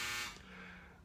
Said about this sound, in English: It was only a buzzer, though